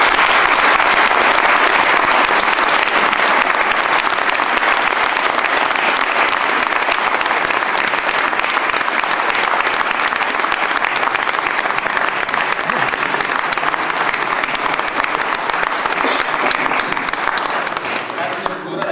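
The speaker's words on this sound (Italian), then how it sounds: "un applauso di nuovo al regista." An audience applauds the director after a performance, a dense, sustained ovation of many hands clapping loudly and evenly for close to twenty seconds, fading slightly at the very end.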